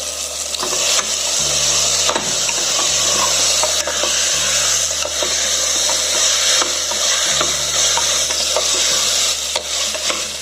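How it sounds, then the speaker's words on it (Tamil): Potatoes, carrots, beans and green chillies sizzle loudly as they are sautéed for vegetable biryani, with steady frying and repeated scraping stirs in the pan and no talk. "பச்சை மிளகா போட்ட பிறகு நல்லா காய்கள்லாம் நல்லா வதங்கணும்"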